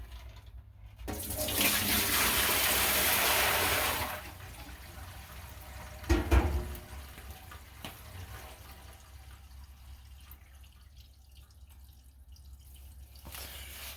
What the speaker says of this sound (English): one more bucket of water will go down and wash once again